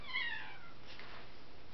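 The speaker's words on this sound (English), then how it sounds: "That was the cat again." A cat gives a single faint, brief meow in the background of a quiet room, fading quickly into low hiss with no talk.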